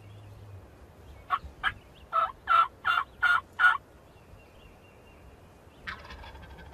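A wild turkey gobbler gobbles once in a rapid, rattling burst of several notes, with a shorter call a moment later, somewhat distant down in a hollow in a quiet setting, late in the day.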